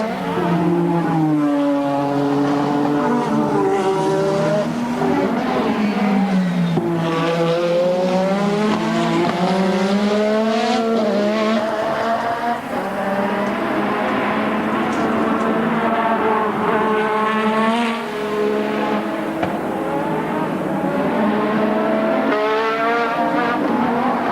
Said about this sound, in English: knocking it up to 200 miles an hour, then hard on the brakes, down through the gearbox